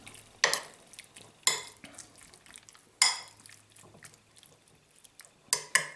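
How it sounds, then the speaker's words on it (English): A fork or spoon stirs a lamb marinade of hoisin sauce and rice wine vinegar in a bowl, giving a few sharp clinks against the side between quieter scraping and swishing. "And we just give that a little mix."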